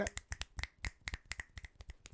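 A rapid series of sharp, crisp finger snaps, many in quick succession, close and fairly quiet with no talking.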